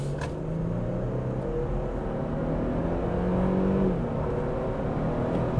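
A Lexus GX 550 accelerating smoothly, its engine a steady, moderately loud drone with a slow rise in pitch from inside the cabin, no voices.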